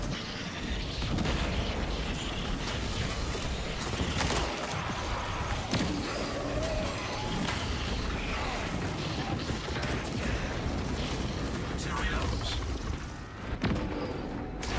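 Grenade launch and blast in a mobile shooter game: dense, loud bursts of crashing explosions and gunfire-like impacts, continuous and chaotic for several seconds with a brief dip near the end.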